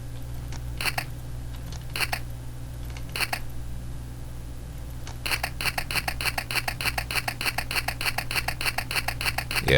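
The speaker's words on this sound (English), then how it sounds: "there is the sound that these buttons make when you push them." Button-push sounds from the Space Quest 1 video game on an Apple IIgs, sharp clicky bursts that start sparse and then repeat rapidly in a steady run over a constant low hum.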